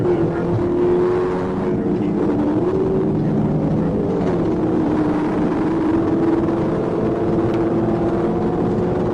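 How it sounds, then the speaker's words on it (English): Three muscle cars, two Dodge Challengers and a Ford Mustang, street race down a highway: a sustained, loud engine roar whose pitch rises and falls as they accelerate, with no pauses. "3 muscle cars, 2 Challengers and a Mustang, street racing down the highway"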